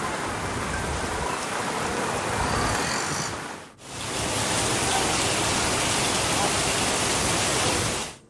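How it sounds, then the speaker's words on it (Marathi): Heavy monsoon rain pours down in Kalyan, Maharashtra, a loud, dense, continuous hiss that dips briefly around the middle before resuming at full strength. "कल्याणमध्येही मुसळधार पाऊस बरसतोय"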